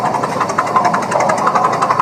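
A 1919 Minneapolis 35-70 tractor, built by the Minneapolis Threshing Company, runs in a parade with a loud, steady, rough engine drone and rhythmic knocking throughout.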